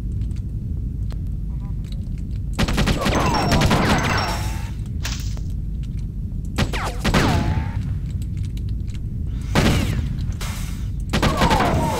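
Several separate bursts of gunfire in the video game Rubicon, each a loud cluster of rapid shots followed by ringing echoes, with quieter gaps between.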